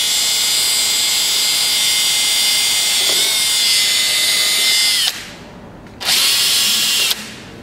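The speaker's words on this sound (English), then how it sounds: "I'm just gonna drill a hole" A power drill bores a hole into the back of a car headlight, a loud high whine running steadily for about five seconds, stopping briefly, then buzzing again for another second.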